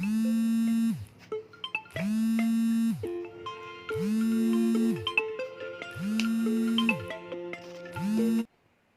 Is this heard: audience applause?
no